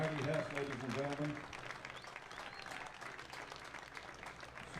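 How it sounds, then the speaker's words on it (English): Spectators at an American Legion baseball tournament game give a round of applause, the clapping carrying on softly and at a distance after an announcer's voice fades out at the start. "Let's give our Legionnaires a round of applause."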